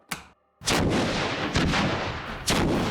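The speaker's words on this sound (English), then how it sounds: "Real-world sewer explosion, best case scenario, sparking in 3, 2, 1." A simulated sewer explosion launches a manhole cover as a loud, close blast with a sharp crack. Two more heavy booming impacts follow, all over a continuous rumbling roar.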